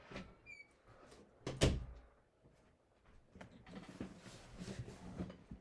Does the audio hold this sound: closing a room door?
yes